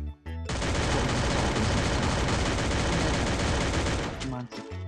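Sustained automatic gunfire from the Free Fire mobile shooter game, a dense rapid burst running loud and unbroken for about four seconds before cutting off, followed by a few brief trailing shots.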